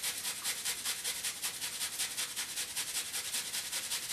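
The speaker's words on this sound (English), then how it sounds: "I just take the other half of the onion I was using and just start grating it" Half an onion grated by hand on a kitchen grater, a steady rapid back-and-forth rasping scrape repeating several times a second, close and fairly loud, with no talking.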